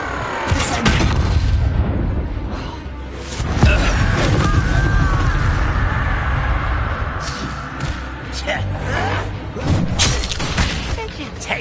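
A Bombarda spell erupts in Hogwarts Legacy on PS5, dull booming blasts and thuds rolling through a busy battle soundscape, with a voice speaking over the action.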